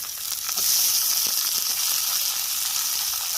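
Bitter gourd fries in a hot red spice paste, giving a steady bright sizzle with a few faint clicks of stirring, close and continuous.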